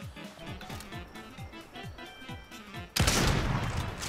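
Gunfire in a video game: a rapid run of repeated shots for about three seconds, then a loud, sustained burst of crashing noise, fairly close, with no talk.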